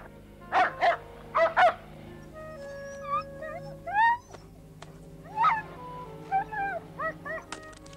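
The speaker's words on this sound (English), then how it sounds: "House dog, huh?" A house dog barks in a film set on the northern frontier: sharp paired barks and yips up close, followed by higher whining and yelping calls that rise and fall.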